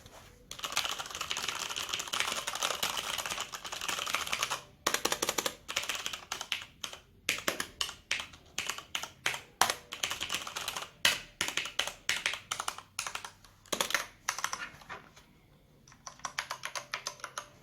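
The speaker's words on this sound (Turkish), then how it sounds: "Mekanik klavye Brown Switch sesini duymak isterseniz" Steady typing on a Corsair K95 RGB Platinum mechanical keyboard with brown switches, a dense run of clicky keystrokes with short pauses and bursts, close and fairly loud, no voices.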